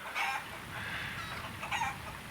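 Chickens cluck and squawk in a couple of close, moderately loud bursts over a low, rustling background, with no one speaking.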